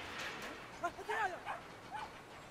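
Small dog in the video game Brothers: A Tale of Two Sons gives several short yips and whimpery barks around the middle, moderately loud over a noisy game background.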